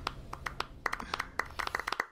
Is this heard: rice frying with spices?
no